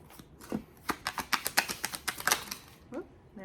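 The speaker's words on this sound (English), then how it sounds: "So I think one more shuffle. All right, let's go ahead and start pulling some cards." Tarot cards being shuffled and drawn by hand, giving a close, rapid run of crisp papery snaps and flicks that build and then ease off, with a voice briefly heard at the edges.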